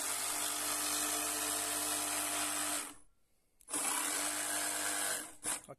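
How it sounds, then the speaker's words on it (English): A jigsaw cutting discs on a farm in Portugal, a loud steady buzzing whine that runs for about three seconds, cuts out briefly, then resumes just as strongly before tapering off at the end. "make sure you leave room for the jigsaw to operate"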